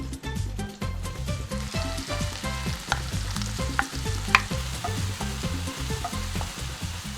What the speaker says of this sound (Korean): 마늘을 볶으면서 오일을 빼주시고 살짝 노릇하게 볶아졌을 때 양파를 넣고 한 번 더 볶아주겠습니다.